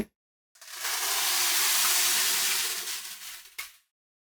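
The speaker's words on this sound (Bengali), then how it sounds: "এখন সেই সিদ্ধ করে নেওয়া ডালগুলো দিয়ে দিচ্ছি" Boiled lentils (dal) go into hot oil in a pan and set off a loud, close, sustained sizzle and hiss that lasts about three seconds before cutting off, with no talking.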